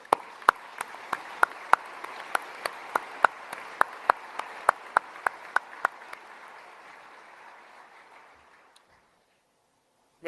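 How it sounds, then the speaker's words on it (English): Sparse round of applause for a military family at a change-of-command ceremony, a few sharp distinct claps over a faint crowd wash that fades out to near silence. "Let's give them another round of applause."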